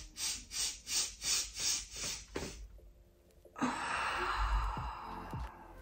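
A slow guided breath in during a children's breathwork exercise, heard as a long, soft airy inhale rising and fading after several rhythmic breath pulses, close and quiet with no talk.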